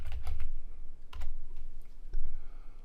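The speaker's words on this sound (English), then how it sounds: "Let me just type this in." Rapid typing on a computer keyboard, close and fairly loud, with bursts of key clicks and short pauses, no voice.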